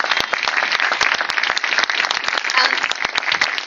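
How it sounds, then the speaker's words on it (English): A crowd at a mural dedication applauds for Cindy Bass, loud, dense and continuous clapping with no voices over it. "if we could have a round of applause for Cindy Bass"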